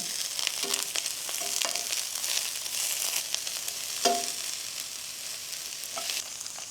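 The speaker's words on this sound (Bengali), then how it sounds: "আর পাশ দিয়ে বাকি ফুলকপিগুলো দিয়ে দিচ্ছি" Cauliflower pieces fry in a pan with a soft, continuous sizzle and a few faint clinks or stirring knocks. The sound is fairly quiet and close, with no talking.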